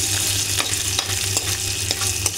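Tomato tempering sizzling steadily in a pan with fried dried red chillies, urad dal, chana dal, mustard seeds and cumin, a continuous close frying hiss with a few soft stirring scrapes, no voices.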